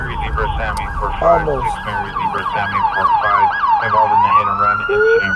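A police car siren wails close by at a night crime scene in Los Angeles, its rising and falling yelp cycling repeatedly and then sweeping up, while a radio dispatcher talks underneath.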